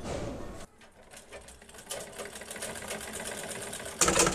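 A sewing machine stitches a salwar panel, running in a fast, even mechanical chatter after a short pause, then speeding up loudly near the end.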